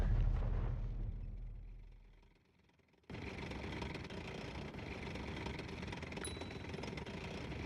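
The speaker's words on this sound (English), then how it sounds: "Oh, aircraft are just bombing this place." Bombing by aircraft in the tank game Panzer Knights: a deep explosive rumble fades away to near silence, then a sudden loud, rough blast of noise and engine roar continues steadily; no voices.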